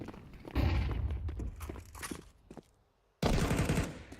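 Rapid gunfire bursts in Counter-Strike 2 come as dense, close rattles, one long burst, then a pause of near silence before another sharp burst. No voice is heard.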